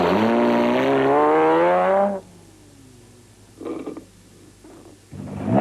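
A Nissan Hardbody rally truck racing in the Lesotho Sun 400 roars loudly up through the revs, then cuts away to quieter background with a couple of brief engine bursts and another rising roar near the end.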